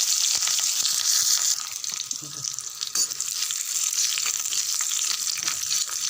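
Curry leaves, mustard seeds, chana dal, urad dal, dried red chilli, cumin and garlic crackle in hot tempering oil, a loud, busy sizzle with sharp pops and a faint voice under it.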